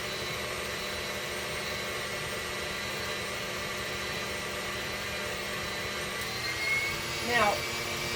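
An electric mixer beats eggs for a chess pie filling, giving a steady, dense whir that runs unbroken throughout, with a brief clink or scrape near the end.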